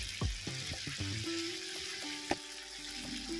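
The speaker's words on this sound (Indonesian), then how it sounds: "Dan langsung aku goreng aja seperti ini." Gorengan fritters drop into hot frying oil, a steady close sizzle with a few brief clinks and bubbling bursts, no voices.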